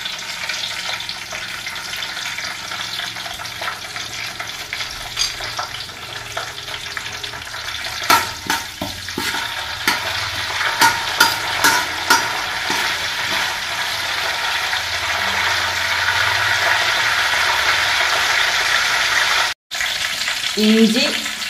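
Green chillies stir-fry in hot oil for a catfish curry, a loud continuous sizzle with intermittent scraping and stirring clatter throughout, briefly dropping out near the end.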